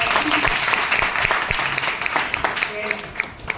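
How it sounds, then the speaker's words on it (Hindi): Workshop audience at a facial training demonstration applauds, scattered sharp claps rising into a steady patter, with someone speaking over parts of it. "एक बार अनीमा मैम के लिए प्लीज तालियां हो जाए"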